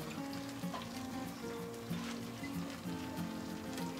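Blended guajillo chile and consommé poured into a hot pot while cooking frijoles charros, giving a steady sizzle and bubbling with faint clinks throughout.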